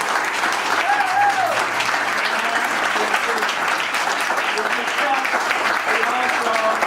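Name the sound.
applause for a pavilion dedication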